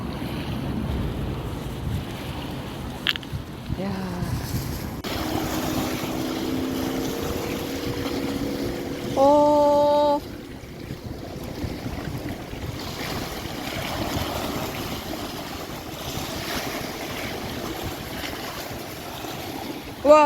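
Wind blows at sea during fishing at the Sihwa seawall, a steady rushing roar with wind buffeting on the microphone, broken by brief tonal sounds and faint voices in the background.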